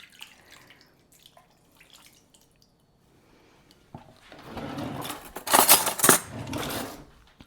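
A 15-ounce can of mandarin oranges is emptied with its juice, a few quiet clinks giving way to a close, wet splashing pour that swells and then tapers off.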